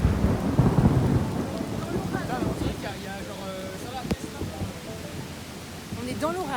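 A monsoon thunderstorm in Nepal: steady rain hisses throughout under rolling thunder, and people talk over the storm.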